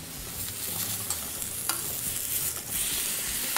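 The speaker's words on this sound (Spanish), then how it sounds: "Vamos asando el jitomate y los ajos." Tomato and garlic roast in a hot pan for pork tinga poblana, a continuous close sizzle and crackle with small stirring taps and scrapes scattered through, no voices.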